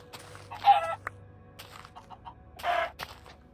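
Chickens in the video game Minecraft give soft, brief clucks, two small bursts a couple of seconds apart, faint against a quiet background.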